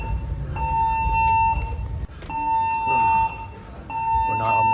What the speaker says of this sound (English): Don't know why the alarm's going off